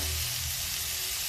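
Tomatoes sizzle and fry in a pan for spinach black masoor dal, a steady broadband hiss with a low rumble underneath, close and continuous with no voices.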